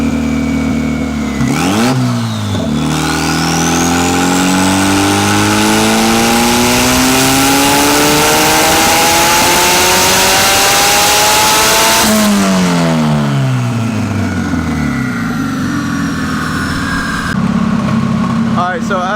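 A drift car on a dyno revs hard through long, rising full-throttle pulls, with the engine note climbing steadily, dropping back on lift-off, then building again, loud and close, with voices talking over it.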